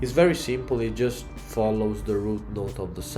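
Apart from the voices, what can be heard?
No distinct noise like a dog, phone or traffic.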